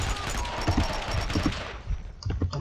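Gunfire in the shooter game Max Payne 2 set in a warehouse: a burst of sharp shots and fusillade, moderately loud, with repeated cracks through the middle and end of the span, no talk.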